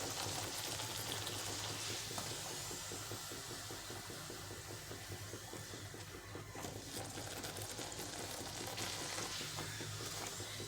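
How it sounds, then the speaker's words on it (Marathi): Besan puri for laddoos frying in oil over a medium flame, a steady dense sizzle and crackle filling the whole stretch, close and continuous with no voices. "असे मिडियम फ्लेवर फ्लेमवरती गोल्डन होईपर्यंत छान तळून घ्यायचे"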